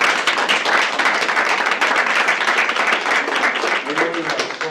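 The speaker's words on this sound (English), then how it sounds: "let's give a round of applause for our panel" Audience members at a stakeholder meeting applaud the panel in a loud, close, steady burst of clapping, with a voice starting to speak as it fades near the end.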